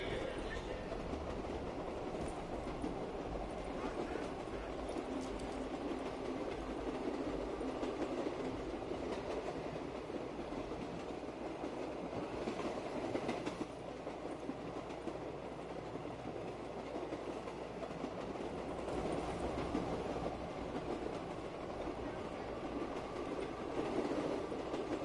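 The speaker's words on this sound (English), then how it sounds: "Maybe I should just keep riding the train." A train rides along its rails in the video game Call of Duty Black Ops 3, with a continuous rumbling clatter and faint wheel squeals running steadily throughout at moderate level.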